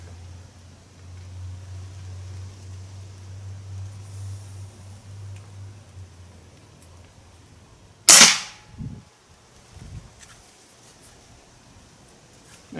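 A Hatsan .25 caliber air rifle being sighted in fires once, a single sharp, loud crack partway through, followed by fainter knocks, over a quiet outdoor background with a low hum that fades out beforehand.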